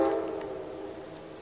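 A train passes in the background outdoors, a steady rumble with a faint horn-like tonal drone that slowly fades over a brief moment, no talking.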